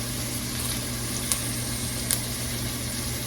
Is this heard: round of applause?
no